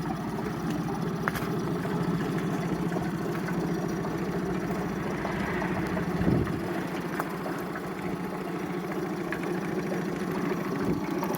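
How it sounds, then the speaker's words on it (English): A Honda BF20D3SH short-shaft four-stroke outboard motor idles at a steady, quiet chug. The low hum runs unbroken the whole time, close and alone, with a brief bump near the middle. "motor starts up nice and quiet"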